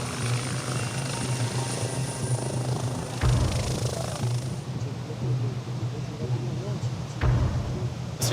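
A SAMU rescue helicopter arriving at a drowning scene, its rotor throbbing steadily and loudly from moderately close, with people talking underneath.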